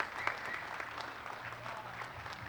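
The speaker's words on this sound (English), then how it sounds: "our players come out to the applause of the crowd" A crowd in an amphitheater at the first tee of the 2023 European Disc Golf Championship applauds as a player is introduced; the clapping is sustained, fairly distant and soft.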